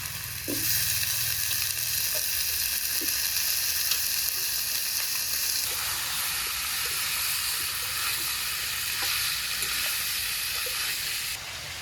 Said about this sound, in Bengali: এঁচড়গুলো তেলের মধ্যে নেড়ে চেড়ে এখন এই যে জল থেকে ধুয়ে আলু দিয়ে দিই।